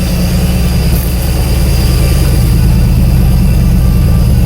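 A Pontiac Firebird idles steadily, heard from behind the car, a low continuous engine rumble with exhaust drone and no voices.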